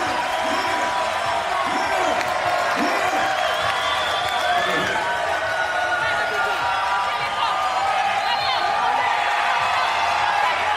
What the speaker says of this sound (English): This sold-out crowd getting loud.